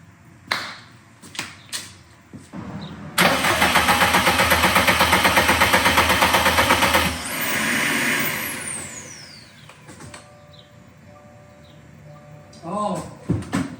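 A used engine swapped into a neglected Subaru STI cranks for its first start, giving about four seconds of loud, rhythmic starter churning that stops, with voices talking before and after.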